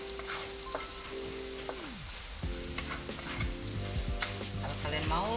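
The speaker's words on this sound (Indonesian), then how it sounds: "Kita goreng semuanya sampai layu ya, sampai dia punya halia layu baru kita masukkan ladanya ya guys." Ginger sizzling as it fries in a pan for black pepper sambal goreng, a steady close crackle throughout with stirring clatter and tonal music playing underneath.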